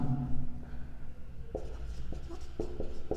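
Chalk or a marker taps and scratches on a board in short strokes during a physics lesson, close and fairly quiet over a low background hum, with a brief voice at the start.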